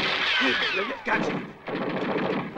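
Bursts of movie battle gunfire crackle in rapid automatic volleys, broken by a short lull and then a second dense burst, loud and close with a layered, mixed soundtrack feel.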